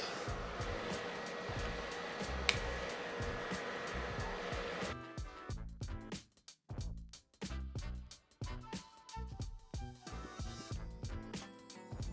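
A Procolored printer running a print job gives a steady mechanical whir for the first several seconds, then shifts to quieter, stop-start carriage movements with short pauses and repeated pulses toward the end.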